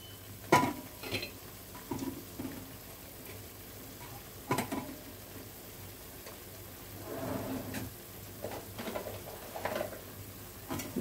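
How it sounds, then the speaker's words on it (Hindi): Potatoes frying and being broken up in a pan for a no-onion, no-garlic potato curry, with soft stirring scrapes and a few sharper knocks against the pan, fairly quiet and close. "ये आलू फोड़ लेती हूँ इसमें।"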